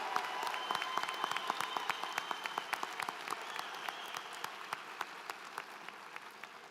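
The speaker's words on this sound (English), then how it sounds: "Let's give these honor graduates a round of applause." A commencement crowd applauds honor graduates with steady, dense clapping from many hands, heard at a distance in a large hall and continuing evenly throughout.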